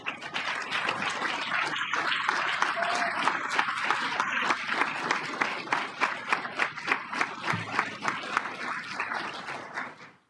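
An audience applauds at a court swearing-in ceremony in Brazil's Supreme Federal Court, steady, loud, full-room clapping that carries on for several seconds, then thins into scattered claps and fades out at the end.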